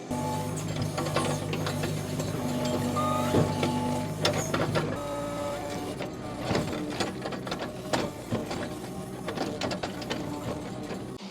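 A Kubota KX71-3 mini excavator digs out pine stumps in woods, its engine droning and hydraulics whining steadily while the bucket scrapes and knocks against roots and soil in irregular clanks and thumps.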